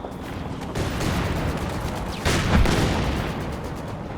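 Artillery and gunfire from the Company of Heroes 2 battlefield thud in the distance, with a louder boom standing out midway through a steady murmur of combat and no voices.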